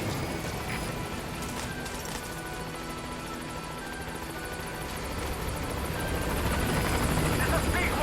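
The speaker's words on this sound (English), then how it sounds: "So we're going to call the helicopter." A helicopter approaches a landing zone in Metal Gear Solid V: The Phantom Pain, its rotor drone steady at first and growing louder toward the end, with in-game ambience underneath.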